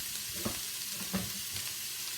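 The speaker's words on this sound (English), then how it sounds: "And let that sizzle a bit." Cabbage and kielbasa sausage sizzle steadily in a frying pan over medium-high heat, a constant close crackling hiss with a couple of soft stirring bumps.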